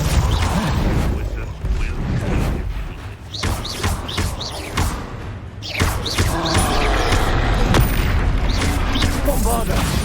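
Bombarda spell explosions going off in the Hogwarts Legacy video game: repeated booming blasts and thuds within a dense, loud stream of combat effects, with whooshing magic streaks and a voice running throughout.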